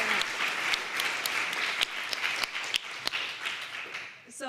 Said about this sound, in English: let's give them a round of applause to start us all off